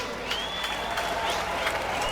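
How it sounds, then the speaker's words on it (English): Spectators at a British Drift Championship Pro-Am battle in Birmingham clap and cheer, a moderate, scattered crowd applause with a thin whining tone running through it in the background. "Give him a round of applause, ladies and gentlemen."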